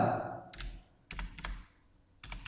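Keys tapping on a computer keyboard while entering a formula in Excel, sounding as short clustered bursts of clicks in three groups with brief pauses, close and fairly quiet, with no talking.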